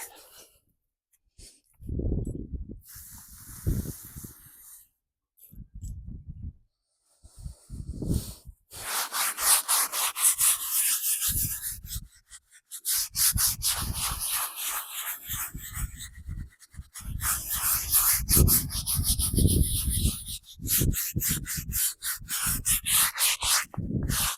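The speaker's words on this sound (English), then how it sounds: "after we scrub each section, all four sides" A brush scrubs a weathered headstone over a century old, giving bursts of close, rasping strokes that stop and start in uneven runs, with brief quiet gaps and no talking.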